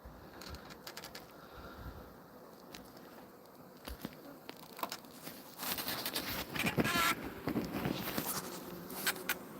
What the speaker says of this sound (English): Got us a few bees in here.